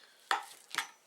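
A knife chops through an onion on a cutting board with two crisp, close cuts about half a second apart, alone and fairly quiet.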